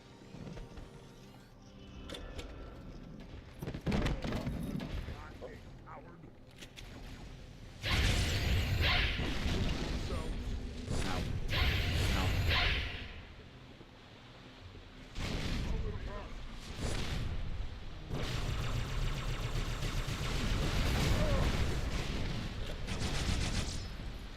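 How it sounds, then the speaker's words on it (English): Explosions and grenade blasts from the Halo 2 video game in cooperative play, arriving as a series of loud, broadband bursts and rumbling booms across the stretch, with gunfire-like crackle between them. "So much explosions."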